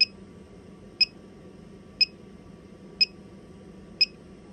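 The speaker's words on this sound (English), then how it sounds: "that's just the low battery alarm kicking off" Low battery alarm on an ALFFAA 1500W pure sine wave inverter: five short, high electronic beeps spaced exactly one second apart over a low steady hum, with no talking.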